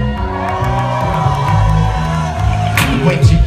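A concert crowd at The Observatory OC in a hip-hop show, cheering and whooping loudly over a pulsing beat with a performer's voice on top.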